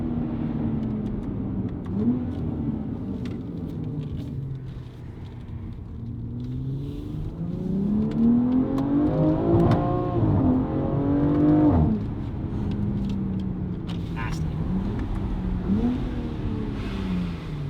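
A BMW X3M fitted with a Valvetronic Designs exhaust, valves open, revs repeatedly, its engine note climbing and falling in loud, smooth sweeps close by with no talking.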